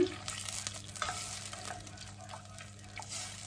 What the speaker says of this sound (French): Je laisse fondre mon beurre